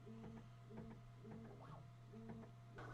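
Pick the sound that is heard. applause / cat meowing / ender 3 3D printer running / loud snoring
ender 3 3D printer running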